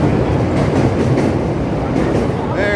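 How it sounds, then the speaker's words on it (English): A train rumbles steadily along its track on a Chicago street, a continuous rolling clatter at moderate distance with a faint squeal near the end, heard under street noise. "That's the train moving over there."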